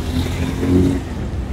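Traffic rumbles past beside the Dhaka–Mymensingh highway in Gazipur, a loud, close engine drone that swells briefly as a vehicle passes and then eases off.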